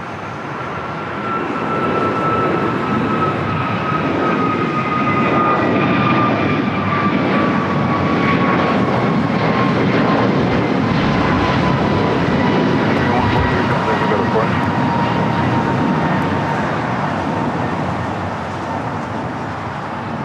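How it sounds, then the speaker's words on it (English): An Airbus A321neo jet passes at LAX, its roar rising, holding loud with a falling whine, then easing slightly as it moves off. "That flight was heading to Honolulu, flight 143, and then A321 Neo."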